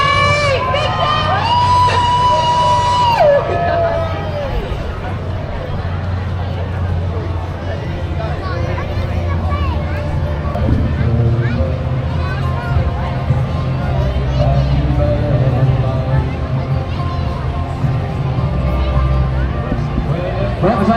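A large crowd cheers and shouts on Sydney Harbour during an Australia Day ferry race, a dense, loud roar of whoops and excited voices, some of them children, that carries on throughout.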